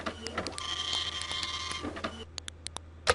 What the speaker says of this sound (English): The cyber printer accepts your cyber file gratefully and begins to print.